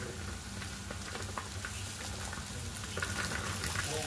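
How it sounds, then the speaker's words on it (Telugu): Okra with onion and curry leaves fries over a low flame, a dense, even sizzle with light crackles, growing slightly louder toward the end. "లో ఫ్లేమ్లోనే మనం ఫ్రై అనేది చేయాలి, లేదంటే మాడిపోతాయి."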